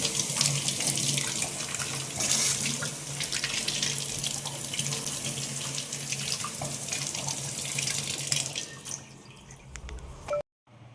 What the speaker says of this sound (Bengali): আর এদিকে গোপু সোনার কতগুলো জামা এনেছি গরমের জন্য, এগুলোই ধুয়ে দিব এখন